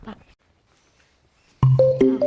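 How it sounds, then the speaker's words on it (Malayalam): A brief faint voice, then a short pause before a melodic telephone ringtone starts loudly, playing a few rising electronic notes. "ഫോൺ അടിയുന്നുണ്ടല്ലോ."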